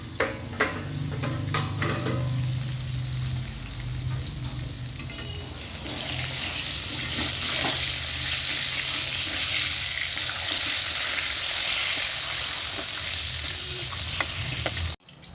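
Fish fries in a pan under a lid, giving a loud, steady sizzle and crackle. A few clicks and clatters come in the first seconds, and the frying grows denser and louder midway before ending abruptly.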